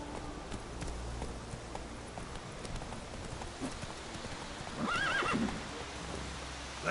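Hooves of a horse in The Witcher video game clop steadily over a soft patter of rain, then a loud, high whinny rings out near the middle before the hoofbeats carry on.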